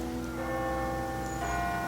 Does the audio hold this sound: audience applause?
no